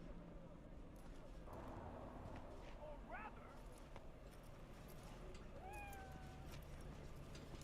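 A Sphynx cat in Cyberpunk 2077 meows a couple of times, short rising calls set against a dense, steady background din.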